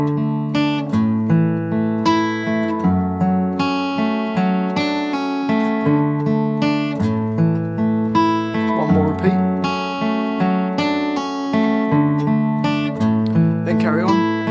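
Guitar strumming a chord progression, steady rhythmic strums with sustained chords, close and loud, without speech.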